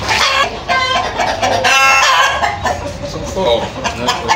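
Goliath breeding chickens clucking and crowing loudly close by in a group, continuous overlapping calls with a person speaking briefly among them.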